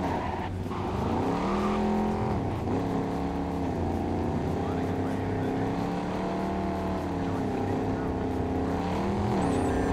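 A car drives in the Cyberpunk 2077 video game, its engine droning loudly and steadily with rising and falling revs throughout and a tire squeal now and then.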